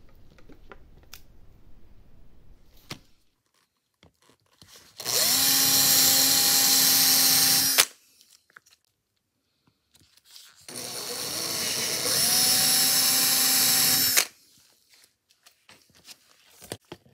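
A power drill bores a hole through a Telecaster guitar pickguard in two separate bursts of steady whirring, each lasting about three seconds, close and loud with quiet pauses between.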